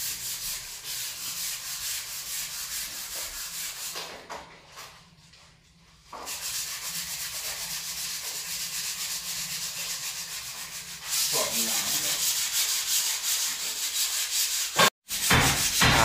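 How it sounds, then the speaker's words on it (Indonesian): Steady rasping of hand-sanding joint compound and filled nail holes on a gypsum ceiling, close and continuous, with a brief quieter pause midway and a harsher, louder stretch near the end. "lubang paku juga harus digosok ya"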